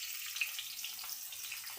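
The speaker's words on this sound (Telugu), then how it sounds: "ఇప్పుడు ఆయిల్ వేడెక్కిందండి, ఇదిగో ఆనియన్స్ అను పచ్చిమిరపకాయలు వేసుకుందాం" Onions and green chillies sizzle in hot oil, a continuous bright crackling hiss heard close up with no voices.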